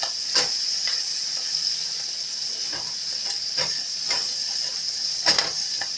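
Garlic scapes turned crispy sizzle steadily in a hot pan with a little sesame oil, a close continuous hiss broken by regular scraping stirs every second or so.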